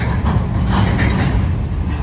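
A CSX freight train of flat cars rolls past close by, a steady loud rumble of wheels and cars with faint rhythmic clatter running through it.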